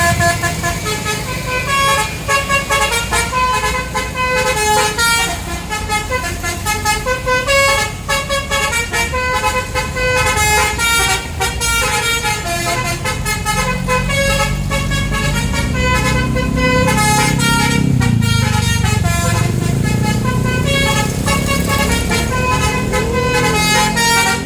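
Tour buses at a Borobudur temple exit sound musical telolet horns: loud, repeated melodic tooting phrases overlapping one another, with a low engine rumble swelling underneath.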